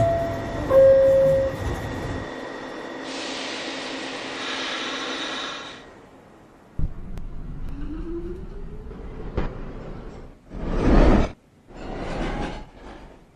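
An automated NYC Subway 1 train at Fulton Street station, with a loud steady hum and hiss of the train, then a quieter stretch broken by sharp clanks and a few loud hissing bursts near the end.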